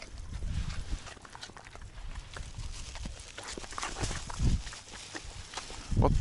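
A horse on a farm during a spring thaw with rain falls and melting snow, moving close by with scattered hoof thuds and shuffling, growing louder in a few brief bursts near the end.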